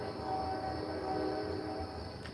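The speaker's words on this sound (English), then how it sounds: "And I love the sound of a train." A train rumbles on tracks about two blocks away at night in Cleveland, a steady distant hum with tonal wheel or horn-like whine, faint and continuous with no talking.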